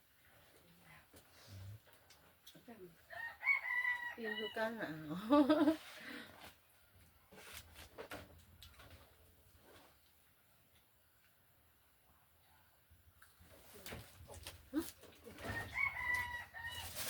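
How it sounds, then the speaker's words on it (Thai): A young rooster crows and clucks in bursts on a village farm, loud and close, with people talking around it between calls. "ไก่นี่มันหนุ่มเนาะ"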